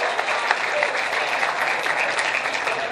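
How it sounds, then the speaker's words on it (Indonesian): A seated university audience at a dialogue event at Universitas Paramadina applauds a student speaker being introduced, a dense, steady wash of many hands clapping close by with no talk over it. "Tepuk tangan untuk Kak."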